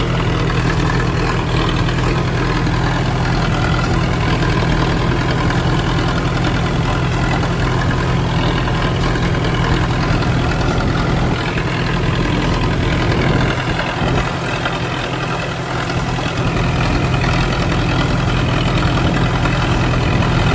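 A tractor engine idles steadily and loudly nearby, a constant low rumble with a droning hum that barely changes over the whole stretch.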